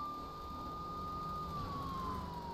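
Police car siren from the GTA video game wails steadily and loudly on its own, with a single tone that holds and then slowly slides down in pitch over a low rumble of traffic and engine noise.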